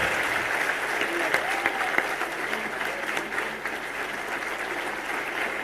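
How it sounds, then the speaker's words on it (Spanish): A crowd at a political event in Corrientes, Argentina, applauds loudly for the president of the nation, sustained dense clapping with a few sharper claps standing out and faint voices mixed in. "les pido un aplauso muy fuerte para el presidente de la Nación"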